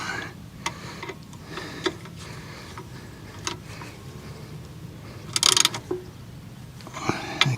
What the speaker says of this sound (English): Just get my socket, just nip those up a bit.